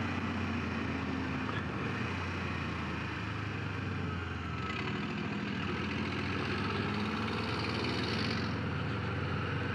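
Kawasaki Z400 motorcycle engine running steadily during a ride on a rough road, a continuous loud drone with wind rush and no clear gear changes.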